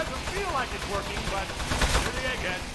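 Gunfire in the video game Aperture Desk Job, a dense stream of rapid shots blended with game sound effects, steady and loud with no break throughout.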